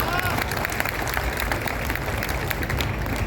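Audience applause at an outdoor poetry recital in Bundi during the Kajali Teej festival: steady dense clapping from a large crowd, loud and continuous throughout, with crowd noise mixed in.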